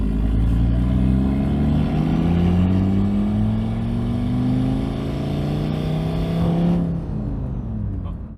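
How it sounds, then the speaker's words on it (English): An Audi RS3 fitted with a huge turbo and a welded differential drives hard, its loud engine note climbing through several rising gear pulls with steady strong output, then easing off near the end. "This is my first time driving with a welded differential,"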